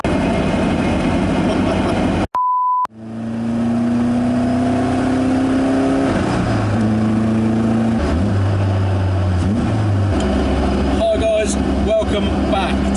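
A Caterham 310R sports car drives through London streets at midnight, its engine note rising and falling through gear changes with steady road noise, while people talk over it near the start.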